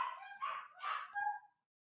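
Agitated dog giving a run of three or four close, fairly loud yipping barks in quick succession before falling silent, with no speech.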